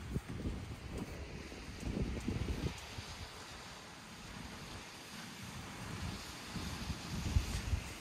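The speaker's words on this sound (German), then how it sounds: "es ist schön windig." Wind by the sea buffets a camper's pop-up roof tent, gusty low rumbling that swells and eases in irregular surges over a soft wash of surf.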